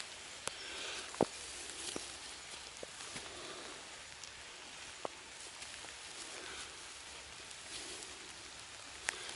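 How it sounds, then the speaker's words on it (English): Light rain patters steadily on an exposed hillside while hiking the Pennine Way, a soft continuous hiss broken by a few sharp drop taps and rustles, with no talking. "Still, at least it's not heavy rain."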